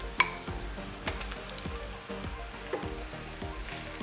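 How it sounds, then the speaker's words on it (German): Minced meat frying in a pan over golden-brown onions for Moldovan cabbage rolls, giving a soft continuous sizzle with occasional stirring clicks and scrapes, fairly quiet and close, with no speech. "als nächstes gebe ich gehacktes rein"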